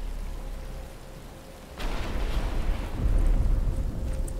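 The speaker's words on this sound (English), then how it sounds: "But it's starting to rain." Rain in the video game Batman: Return to Arkham Asylum, a broad hissing wash that swells suddenly midway and keeps building into a dense, steady downpour with no voices.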